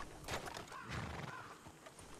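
Horses in the video game Red Dead Redemption 2 whinny and clop their hooves nearby, a couple of neighs over a rough ongoing shuffle of footfalls, fairly quiet.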